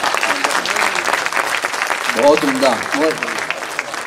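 Audience clapping breaks out at an Urdu poetry recital at a mushaira, a loud sustained round of applause with someone speaking over it in appreciation.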